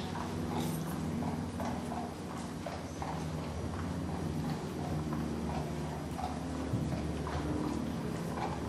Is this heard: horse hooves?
yes